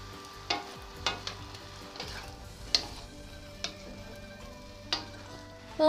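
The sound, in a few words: stirring frying egg and soaked Chinese cabbage in a pan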